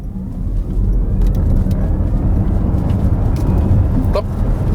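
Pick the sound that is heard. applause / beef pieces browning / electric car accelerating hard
electric car accelerating hard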